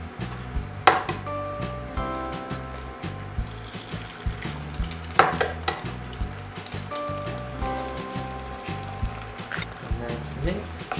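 Smoked chicken sausages and eggs stir and fry in a pan with a soft sizzle, broken by repeated clinks and scrapes of a utensil against the pan, close by and steady, with a voice talking over it.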